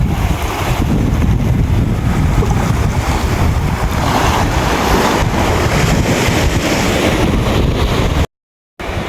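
Sea waves surge and break in a steady, loud wash along a shore with cottages and small boats, wind buffeting the microphone throughout, with a brief dropout near the end.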